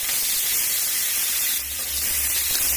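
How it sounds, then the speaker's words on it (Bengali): A fish head fries in hot oil in a wok, giving a continuous loud sizzle and hiss. A faint low bubbling sits under the close, steady spray-like noise. "এখন মাছের মাথাটা ভেজে নিচ্ছি"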